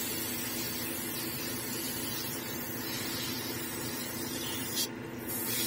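Airbrush or spray paint hissing steadily while red is applied to a quarter-scale resin Hellboy figure's face and neck, a continuous close hiss with a brief sharper burst near the end.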